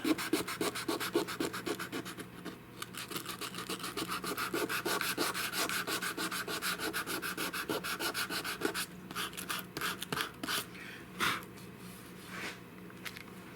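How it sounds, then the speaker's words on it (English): Rhythmic scraping of sandpaper over old heart pine wood, steady back-and-forth strokes, close and fairly quiet, with no voices. "You can also get some serious splinters sanding this old heart pine like this."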